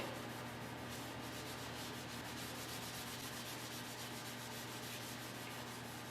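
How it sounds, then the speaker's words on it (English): A red Scotch-Brite pad scuffs primer on a rusty Suburban's bodywork, a steady, close, rhythmic rubbing hiss that continues without pause. "These red Scotch Brights really work good for knocking down your feather edges"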